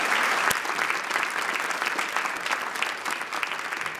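An awards ceremony audience applauds with dense, steady clapping that fills the room. It stays loud and close throughout, with no speech over it.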